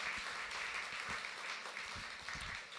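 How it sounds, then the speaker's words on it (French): A live podcast audience at the Festipod festival claps together, a dense, steady round of applause throughout, fairly faint and distant-sounding, with a few sharper individual claps standing out. "On peut se donner une bonne main d'applaudissement, je pense."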